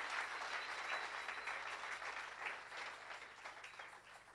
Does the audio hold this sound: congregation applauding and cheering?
yes